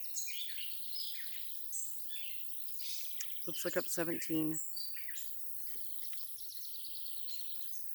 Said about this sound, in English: The cardinal is a very special bird for me.